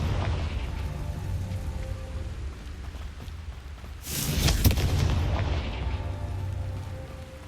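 In the Hogwarts Legacy video game, a Confringo spell explodes as a sharp, bright burst midway through, rising out of a muffled rumbling backdrop before fading back down.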